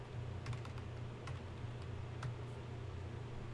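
Typing on a computer keyboard during a livestream, a steady run of quick clicky keystrokes over a low constant hum, with no talking.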